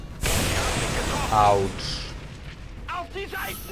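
An explosion in the video game XCOM 2 with a loud, broad rumbling blast that holds for over a second and then fades, while someone talks throughout.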